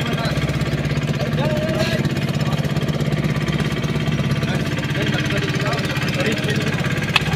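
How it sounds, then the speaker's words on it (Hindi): A boat or vehicle engine runs steadily after starting, a continuous rumbling drone close by with a rough, knocking texture throughout, while people talk over it. "ये हमारा इंजन स्टार्ट हो गया।"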